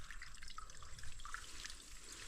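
Water poured into a bottle gourd, a continuous close trickle with small drips and gurgles, quiet and steady, with no voices.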